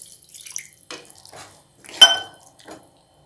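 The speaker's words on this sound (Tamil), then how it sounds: "இப்போ நம்ம குருமாக்கு தேவையான அளவுக்கு தண்ணி விட்டுக்கலாம்" Water splashes and trickles into a metal pan of potato kurma, with a brief louder gush midway and light clinks of cookware around it.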